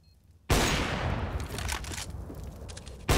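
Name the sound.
gunshots in video game Counter-Strike match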